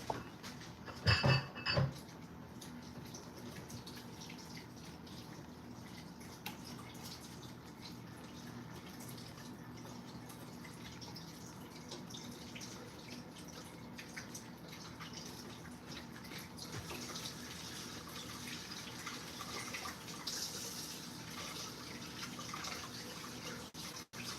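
Steady running water from a tap splashes continuously for a long stretch, with a few brief clatters near the start and faint handling sounds.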